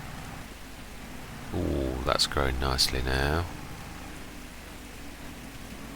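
Heavy rain in the video game Farming Simulator 22 on the Haut Beyleron map, a steady hiss that runs throughout while someone talks briefly in the middle.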